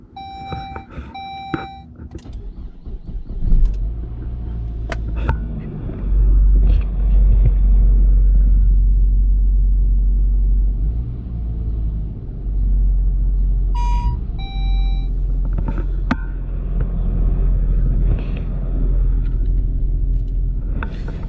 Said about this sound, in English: I have my engine off, but I want to start it up